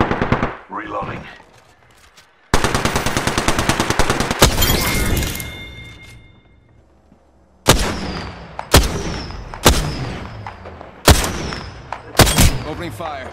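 Gunfire in the battle royale game Apex Legends: a loud automatic burst, then repeated sharp single shots with pauses between, close and punchy, with brief gaps of near quiet.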